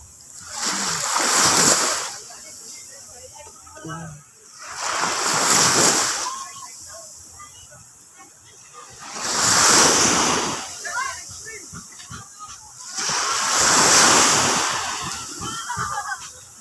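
Ocean waves breaking on a beach near a home on a gloomy morning, four broad rushing surges that swell and recede in a slow rhythm, with wind buffeting the microphone and a voice speaking between them.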